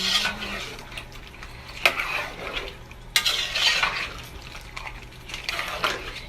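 Palava sauce stirred in a pot, a spoon scraping and clinking against the metal in steady rounds with a soft wet sizzle underneath, close and clear.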